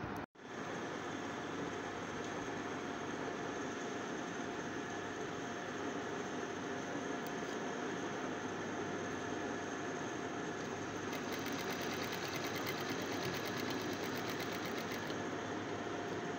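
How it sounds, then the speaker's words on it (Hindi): A sewing machine stitches the shoulder seam of a ladies' shirt with a steady, continuous mechanical whirr that runs unbroken for over fifteen seconds after a brief start, close and even in level. "इसको स्टिच करते हैं।"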